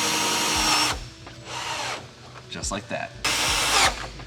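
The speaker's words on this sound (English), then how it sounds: "So I'm literally just self-tapping these things in." Power drill driving self-tapping screws into aftermarket Type M side skirts on an R32 Skyline, two loud whirring bursts at the start and end with a quieter one between, while someone talks briefly.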